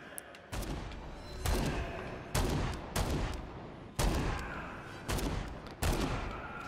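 Seven or so sharp, booming gunshots ring out at irregular intervals in Dead Rising 4, each followed by a short decaying rumble, close and fairly loud with no speech over them.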